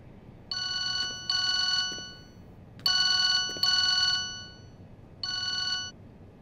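A telephone rings in a TV drama, five bright electronic trills in pairs and singles with short pauses between them, clear and close in an otherwise quiet room.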